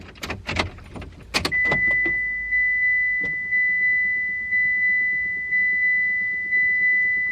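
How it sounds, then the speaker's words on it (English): A car's fuel pump primes after the ignition is switched on, following a few jangling keys and clicks: a steady electronic tone pulses in even repeating beats, fairly close and alone in a quiet space. "You can hear it priming and everything"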